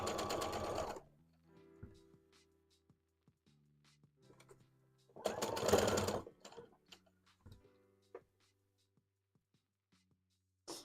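A sewing machine stitching furry fabric for plush toys, two loud bursts of rapid motor-driven whirring separated by quiet stretches of soft clicks and small handling noises, heard close up with no talking.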